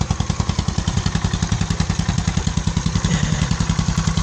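A Rusi King motorcycle engine runs with a leaking exhaust pipe, making a loud, close, rapid and even chuffing pulse with a slightly clattery edge, alone without talk.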